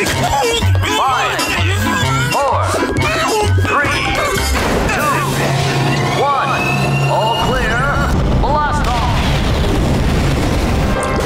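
A loud cartoon rocket launch roars and booms with crashing impacts and rumbling thrust, continuous and dense throughout, with voices speaking over the din.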